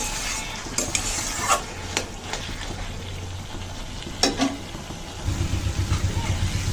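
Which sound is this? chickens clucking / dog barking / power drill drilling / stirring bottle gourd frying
stirring bottle gourd frying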